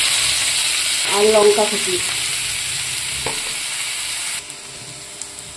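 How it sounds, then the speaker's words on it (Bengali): A bay leaf, five-spice mix and chopped onion fry in hot oil in a pan, making a loud, steady sizzling hiss that runs throughout and eases slightly near the end, with a brief spoken voice over it early on. "এবার আমি এখানে একটা তেজপাতা দিয়ে দিচ্ছি আর 5 ফোড়ন দিয়ে দিলাম, আর দিয়ে দিচ্ছি পেঁয়াজ কুচি"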